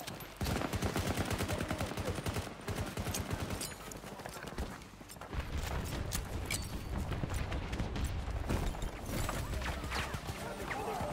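Gunfire cracks from behind a player in Battlefield 2042, dense bursts and rattling shots under a man's speech and game noise, continuous and loud throughout.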